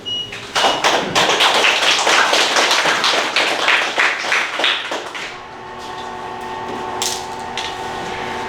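A lecture audience at a Confucian school's special-talk event breaks into loud, dense applause that swells quickly and then tapers to a few scattered claps and murmurs.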